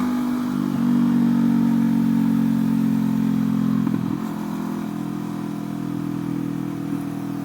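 Motorcycle ridden past a winery near Palomares, its engine a steady mid-pitched drone held at moderate revs, loud and continuous throughout with a slight drop in level partway through.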